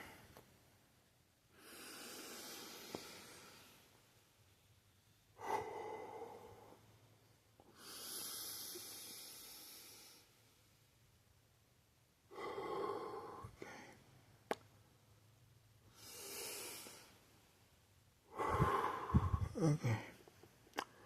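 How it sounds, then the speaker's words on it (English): Deep breaths drawn in and let out slowly, about four long airy cycles with pauses between them, close and fairly quiet, ending in a stronger exhale. "Take a deep breath."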